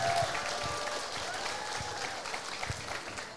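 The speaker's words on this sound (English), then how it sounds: "One more time, please give a round of applause for Professor Vidya." A conference audience claps steadily, dense and fairly close, with a few louder individual claps standing out from the sustained applause.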